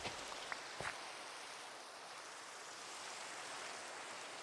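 Minecraft rain pours as a continuous soft wash of drops, with a few faint clicks near the start before settling into a smooth, unbroken hiss.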